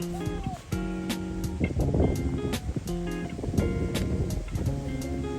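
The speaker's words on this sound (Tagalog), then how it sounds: "Ayun yung dagat. Wow!" Sea waves wash against a windy shore with steady rushing surf and gusty wind noise buffeting the microphone, broken by irregular sharp knocks and rustles close by.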